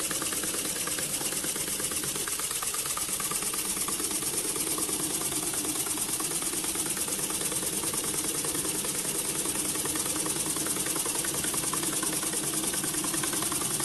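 A small stretched wobbler steam engine running on compressed air at low pressure, chuffing in a fast, steady, even rhythm close by and uninterrupted, with no talking.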